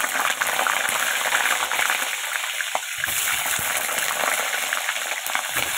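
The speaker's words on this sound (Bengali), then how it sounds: "আলুগুলো একটু লাল লাল করে ভেজে নেব।" Potatoes fry in hot oil with bay leaf and cumin, giving a steady, close sizzle that hisses evenly for the whole stretch with no talking.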